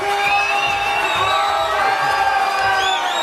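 A large crowd at a religious gathering cheers loudly and without a break, with whoops and shouted voices rising above a continuous roar.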